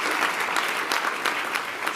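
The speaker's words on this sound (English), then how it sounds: "Yes, you can clap for that." An audience at a real estate talk breaks into steady applause, a brief burst of many hands clapping close together, heard alone without speech.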